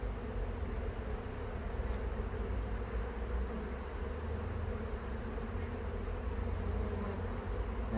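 Honey bees from a Devon hive buzz steadily during an open hive inspection, a dense, continuous drone of many insects filling the space at moderate level with no voices.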